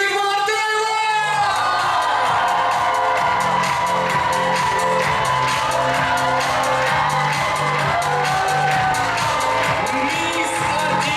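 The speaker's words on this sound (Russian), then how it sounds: "друзья, громко аплодисменты!" A loud audience cheers and whoops at a university award ceremony, a steady roar of crowd noise lasting throughout. Music plays at the same time, and the near, dense sound never drops off.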